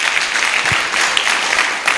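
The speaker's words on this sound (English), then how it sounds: "A good clap" A student audience claps loudly and steadily at a Kiambu National Polytechnic election event, a dense, continuous applause that holds at the same level for the whole stretch with no voices on top.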